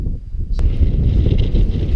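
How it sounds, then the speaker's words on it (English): Strong gusting wind on a hilltop near High Peak in Cumbria buffets the microphone with a constant low roar, no voices present. "It's a bit windy up here, but hopefully you can hear me."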